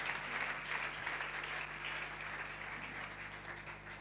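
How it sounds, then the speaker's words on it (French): Audience at a church convention applauding, a dense, continuous wash of clapping from many hands filling a large room, moderately distant and steady throughout. "On acclame aussi notre papa qui est venu."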